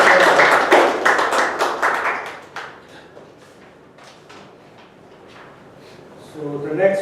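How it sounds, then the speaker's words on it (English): A handful of people at a Toastmasters meeting clap in a short, near burst that tapers off into quiet room tone before a voice resumes. "So let's also give a round of applause."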